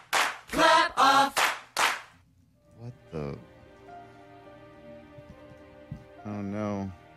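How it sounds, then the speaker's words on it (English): A few sharp hand claps mark the Clapper slogan on a radio game show about naming company slogans, sitting among close studio voices that talk before and after. "Clap on. Clap off."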